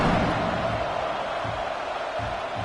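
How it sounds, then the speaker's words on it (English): Stadium crowd in a college football video game buzzes as a dense, steady roar of distant cheering that holds at an even level throughout. "this crowd is buzzing after that last score"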